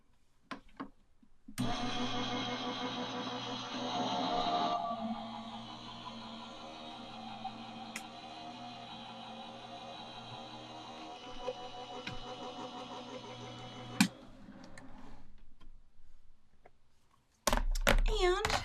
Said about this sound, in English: let's run this through a die cut machine.